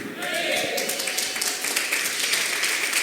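Congregation clapping together inside a church during a lively worship service, a dense steady patter of applause filling the room for a few seconds.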